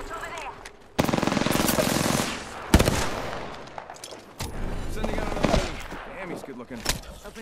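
Gunfire in the video game Apex Legends, with rapid automatic bursts and sharp single shots close up, broken by brief pauses and mixed with game effects.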